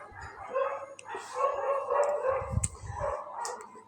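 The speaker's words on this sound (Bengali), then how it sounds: "কুকুরগুলো অনেক মানে চিল্লাচিল্লি করতেছে" Several dogs barking and yelping at a distance, overlapping calls with a short howl-like stretch, fairly faint.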